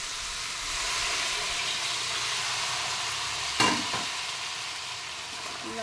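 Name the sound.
sizzling as salt, chili and turmeric water added to jackfruit curry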